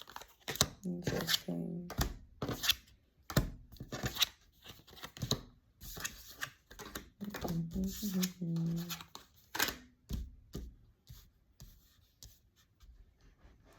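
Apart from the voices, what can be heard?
tarot cards being shuffled and handled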